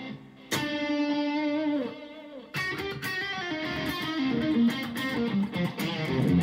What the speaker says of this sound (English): SDE 3000, that's right, from Roland. It's a digital delay.